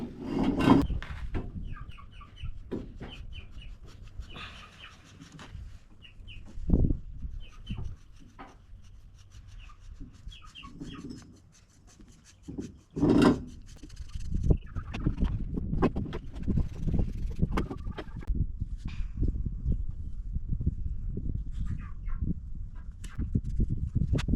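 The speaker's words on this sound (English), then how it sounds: "now I'm gonna sharpen it by scrubbing both sides like this, on both sides." A handmade stone arrowhead is scrubbed on both sides to sharpen it, giving close, gritty scraping strokes in irregular bursts, with occasional sharper knocks and no talking.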